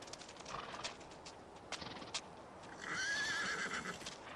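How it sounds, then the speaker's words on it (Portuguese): Icelandic horses on open pasture, with a few hoof clip-clops early on, then a loud, drawn-out whinny rising near the end. "Os cavalos nômades da Islândia enfrentaram a tempestade vulcânica e têm seu pasto de volta."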